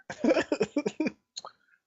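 A short series of dry coughs, close and fairly loud, followed by a brief softer throaty sound and then quiet.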